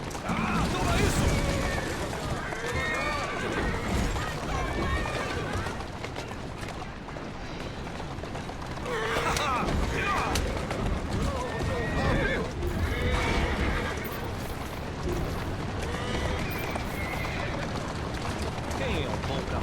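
Horse neighing and whinnying with clip-clopping hooves in the Assassin's Creed Syndicate video game, repeated over a busy, steady game soundscape with someone talking over it.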